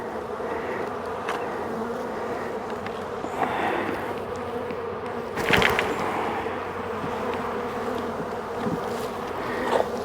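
Honeybees swarm around an open hive during queen-rearing work, a continuous close buzzing with a few louder passes near the microphone.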